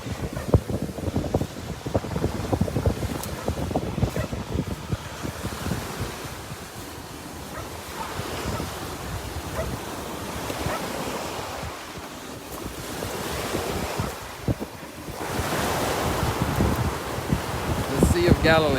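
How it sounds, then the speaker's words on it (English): Wind-driven waves wash and churn along the shore of the Sea of Galilee, a steady loud rush with gusts buffeting the microphone and slight swells in intensity throughout. "So here you can see how the water is a little wild."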